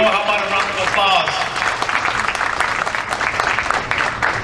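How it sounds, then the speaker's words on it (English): A crowd at a campaign kickoff event applauds steadily and fairly loudly for several seconds, a dense wash of clapping with a voice briefly over it at the start. "How about a round of applause?"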